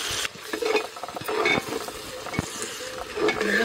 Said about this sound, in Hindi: देख रहे हैं कितना बढ़िया भून रहा है।